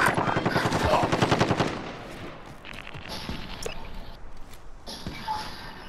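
Gunfire in a Call of Duty Plunder match: a rapid close automatic burst up front, then sparser, more distant shots and muffled battle noise continuing underneath.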